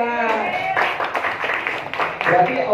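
A classroom of students claps hands briefly in scattered applause, mixed with voices talking over it.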